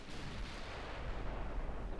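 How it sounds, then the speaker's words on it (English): Heavy 14-inch naval guns firing in the warship game Ultimate Admiral: Dreadnought, a dense, continuous booming roar of overlapping artillery blasts with strong low rumble throughout. "I'm not sure he's gonna survive the hail of 14-inch gunfire here."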